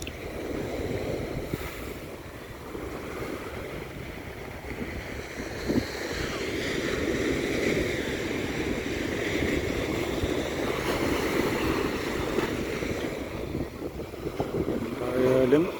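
Sea waves washing onto the shore, a continuous rushing wash with gentle surges and some wind buffeting the microphone, moderately loud and steady throughout with no speech.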